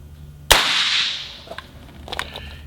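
A single sharp pistol shot from a Q2 pistol cracks loud and close, then a bright ringing decay trails off over about a second, followed by a few faint clicks.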